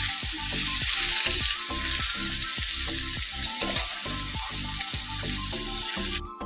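Fish is fried in oil in a pan, producing a loud, continuous sizzle with rapid rhythmic bubbling pops throughout, close and unbroken.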